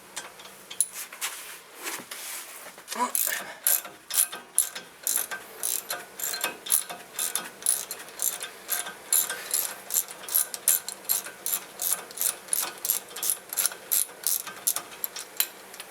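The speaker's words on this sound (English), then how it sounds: "all you have to do is really just take off the caliper mounting bracket. That is a 13/16 bolt." A ratchet wrench loosening a 13/16 caliper mounting bracket bolt on a 2006 Dodge Dakota: rapid clicking bursts in a steady back-and-forth rhythm, close and clear, with no talk.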